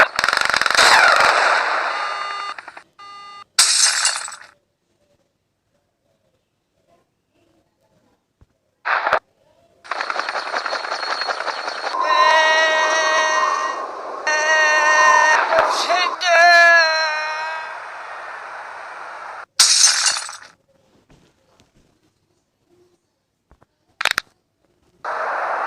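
Cannon fire booms out in bursts on an airship in a video game, with sharp blasts and rapid gunfire-like rattles between stretches of silence, and voices talking in between.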